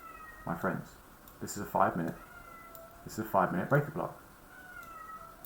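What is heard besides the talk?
pet cat crying in the background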